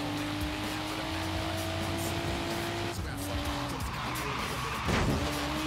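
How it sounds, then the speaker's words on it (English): A Toyota GT86 with mods scrapes and slides along the track in Forza Horizon 3, a steady engine drone with tire squeal and scraping noise, loud and continuous throughout. "scraping the car everywhere"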